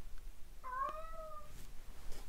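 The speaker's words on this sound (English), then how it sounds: "It's a noisy cat, and the noisy cat has now left the room." A domestic cat gives a single clear, drawn-out meow indoors, fairly close, followed by quiet room noise.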